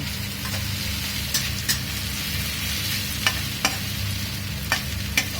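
Onion sautéing in a hot pan for a pork curry, a steady sizzle with several sharp scrapes or taps of a spoon against the pan at irregular intervals, close and alone with no talk.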